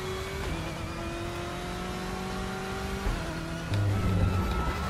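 A BMW M8 GTE race car in the RaceRoom racing game, its engine tone dropping through downshifts under braking, with a rougher crackling burble rising near the end; steady, close and loud, no talk.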